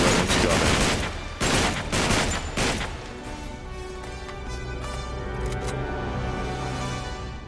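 Rapid gunfire in Uncharted 3: Drake's Deception, a loud cluster of sharp shots in quick bursts that thin out after a few seconds, leaving ringing tones and a low game soundtrack.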